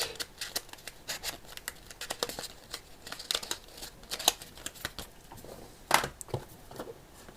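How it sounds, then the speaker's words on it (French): Pages of a paper manual for a Xiaomi smart sensor kit are leafed through up close, giving soft, irregular rustles and flicks with quiet gaps between them. "le manuel, je vais un peu le feuilleter"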